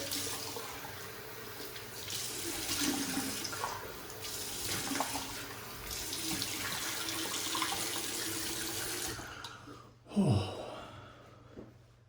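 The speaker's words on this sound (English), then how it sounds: "Let's wash off the face" Tap water runs steadily into a sink during a face rinse after a wet shave, a continuous hiss that stops near the end, followed by a few splashes and a sharp breath.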